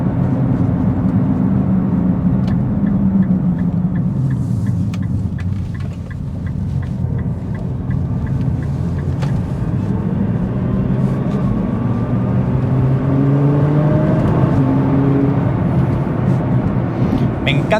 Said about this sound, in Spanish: Me encanta cómo el carro acelera desde baja.